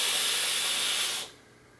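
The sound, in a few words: vaping on Mutation X V4S RDA at 82 watts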